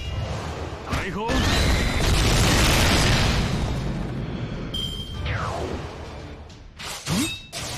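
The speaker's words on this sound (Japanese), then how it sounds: "大砲。" Cannons fire in the Fate/Grand Order video game during a defensive battle, heavy booming blasts with whooshing sweeps and bursts, loud and layered under game voices and effects.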